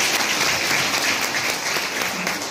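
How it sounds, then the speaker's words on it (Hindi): Loud, sustained applause from an audience at an award ceremony honoring people for child-marriage-free pledges, steady and dense throughout with no pauses. "जोरदार तालियों के सहारे"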